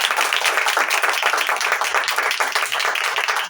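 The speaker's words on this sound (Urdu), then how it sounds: "ایک دفعہ اس کے جلال کے لیے زوردار تالیاں بجائیں" A church congregation applauding, dense and loud continuous clapping from many hands that holds steady throughout.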